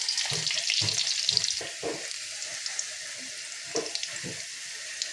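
Garlic frying in oil in a pan for Tamil-style tomato rice gives a steady close sizzle with scattered stirring and clinking sounds, and no one talks.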